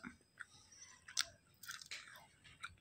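Someone bites and chews chilli chicken, liver fry and kebab, with soft, close crunches and mouth sounds in a quiet room.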